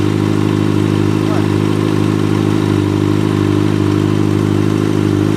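A Kawasaki Ninja motorcycle engine runs at a steady idle, a loud, even low hum that holds without revving, while someone talks over it.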